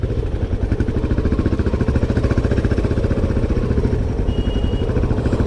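A Royal Enfield Himalayan 450 fitted with a rally exhaust runs steadily at close range, its engine giving a continuous, evenly pulsing throb with a faint mechanical clatter and no talk over it.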